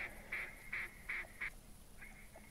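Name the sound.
ducks calling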